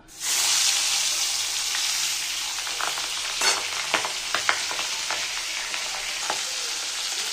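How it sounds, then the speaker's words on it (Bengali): Pabda fish frying in a small amount of hot oil, a bright steady sizzle that starts abruptly, with scattered pops and a few utensil clicks over it. "মাছটা ভাজা হয়ে গেছে"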